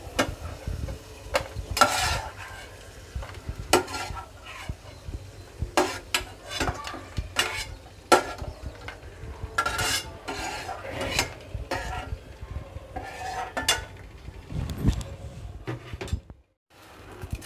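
Fried semolina vermicelli pieces for semiya kesari are spooned from a pan onto a plate, with repeated metallic spoon scrapes and clinks against cookware over a faint sizzle, steady and close throughout.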